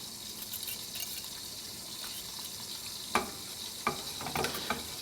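A sauce for pork chop fried rice thickening in a pan under steady whisking, heard as a soft, even bubbling hiss with a few sharp clinks of the whisk against the pan toward the end.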